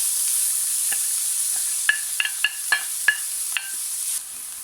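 A large chopped onion and a red pepper fry in olive oil in a pan, making a continuous bright hiss, broken by a string of quick spatula scrapes and taps in the middle. No one speaks.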